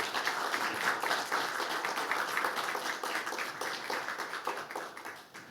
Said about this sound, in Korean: 우리 박수 한번 해주시면 좋겠습니다.